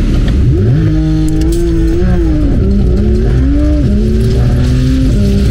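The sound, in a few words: Porsche 992 GT3 engine during launch control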